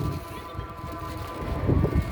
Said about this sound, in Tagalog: So napakalakas po ng hangin.